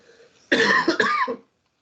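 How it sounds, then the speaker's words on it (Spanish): A woman lecturer gives a single harsh cough, a short burst with a couple of quick pulses, close to the microphone in a quiet room. "discúlpenme la tos que estoy así"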